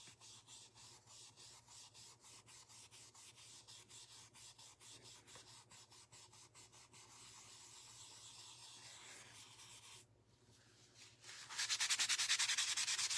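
Steady rhythmic rubbing of wax onto wooden quilt block pieces, a soft repeated back-and-forth scrub that grows brighter and harsher toward the end, close and alone with no talking.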